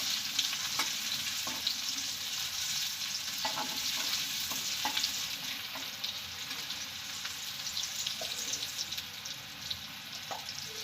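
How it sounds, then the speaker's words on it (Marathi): Onion, ground masala and tomatoes fry in a pan for a prawn curry, giving a continuous sizzle with occasional stirring scrapes, close and steady, with no voices. "कांदा टाकून झाला का मग त्याच्यात थोडा तरी मसाला जो वाटलेला मसाला तो पण टाकून घेऊ"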